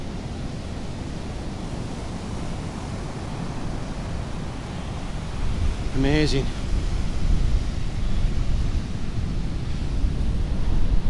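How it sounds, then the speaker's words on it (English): Large waves break and wash up a soft sand beach on the Cornwall coast between Land's End and Cot Valley. The surf roars steadily and builds louder, with wind buffeting and someone speaking briefly. "And they are some cracking waves."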